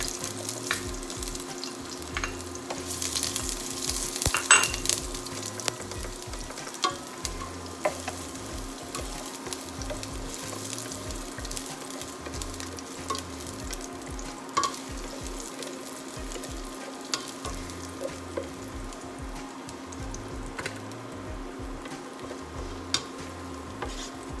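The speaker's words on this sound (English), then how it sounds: "So first, we're going to saute our garlic. Wait for it until it becomes golden brown." Garlic sautéing in a pan until golden brown for Filipino chicken tinola, a soft steady sizzle with occasional stirring scrapes and clinks, continuous and moderately close with no voices.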